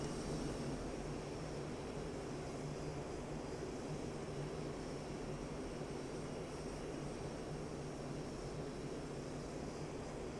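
A Mirage F1 jet engine drones steadily in the DCS flight simulator game, a constant broadband roar with a faint high whine, heard alone at a quiet level.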